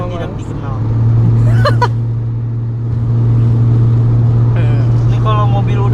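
Automatic Mercedes-Benz 300E W124 from 1991 held at high revs while driving, a steady droning engine hum that swells and stays strong under someone talking in the cabin.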